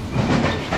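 A Vienna U-Bahn subway train rumbles and clatters nearby, a steady loud roar of wheels and carriage noise for under a second.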